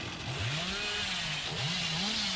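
Hillbilly's chainsaw in the Dead by Daylight video game revs continuously, a loud buzzing engine whine whose pitch wavers up and down in repeated surges across the whole stretch.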